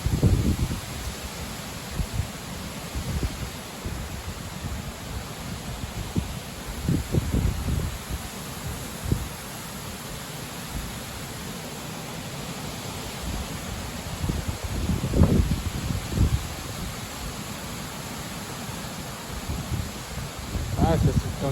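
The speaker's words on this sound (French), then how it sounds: "Que du vent fort. Vraiment du vent fort." Strong wind gusts at around 70 km/h roar and rustle through leaves outdoors, a constant loud rumble that swells in several heavier bursts, alone with no talking.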